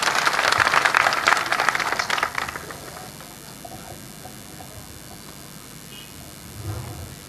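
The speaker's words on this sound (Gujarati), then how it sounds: "આપણે તાળીઓની સાથે એમનું સ્વાગત કરીશું." Applause from an audience at a tribal community rally greets an army-retired panchayat member as he comes forward, a broad burst of clapping for about two and a half seconds that dies away into quiet room ambience.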